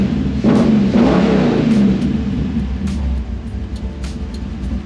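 A car fitted with a newly installed Motion Raceworks catch can pulls away for a drive around the block, its engine revving and rising in a loud, close rumble before easing into a steadier whir.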